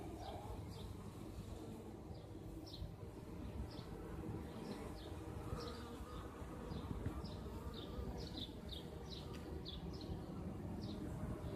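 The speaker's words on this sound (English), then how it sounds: "They're coming and they're going and they are bringing pollen." Honey bees fly around a busy hive, their soft buzzing passes coming and going in repeated short bursts against a faint steady background.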